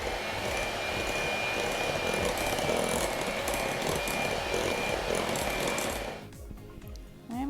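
Electric hand mixer blending flour, baking powder and a pinch of salt into a batter in a bowl, a steady close whirring drone that holds for about six seconds before cutting off, leaving quiet bowl noises.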